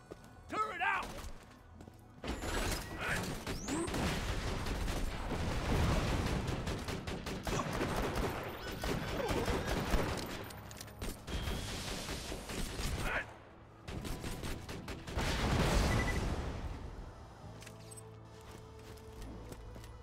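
Automated turret fire from Axton's deployed turret in Borderlands 2, dense bursts of rapid gunfire and crashing impacts that come in waves over about twenty seconds, pausing briefly near the two- and thirteen-second marks.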